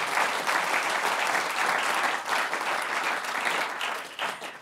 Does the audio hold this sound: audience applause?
yes